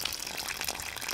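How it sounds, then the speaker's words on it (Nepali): A man urinates by the roadside, producing a short, close, steady splashing gush of liquid, heard alone. "दिदी त्यहाँ हेर्नु त, फेरि एकजनाले मुतिरहेछ"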